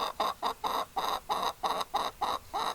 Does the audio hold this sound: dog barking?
no